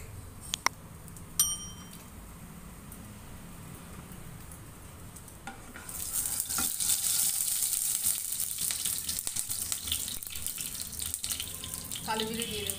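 Hot oil hissing and sizzling in a pan for a Bengali pumpkin chhechki, a steady broadband crackle that starts abruptly partway through and continues loud to the end, with a few clinks before it.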